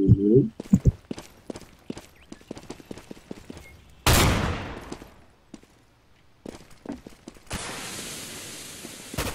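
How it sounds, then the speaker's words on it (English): Flashbang grenade going off in Counter-Strike: Global Offensive, one sharp loud burst amid rapid in-game footsteps and scattered gunfire clicks, followed later by a sustained high ringing hiss. "Throwing a flashbang!"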